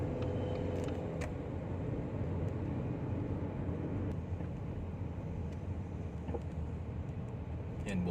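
Slow road traffic in San Pedro, Laguna, heard as a low, steady rumble of engines and tires that runs on without a break, with no clear voices.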